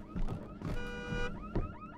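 A car alarm blares inside the horror game Visage, its tone sweeping and warbling in repeated cycles; the alarm is loud and close, with no voices over it.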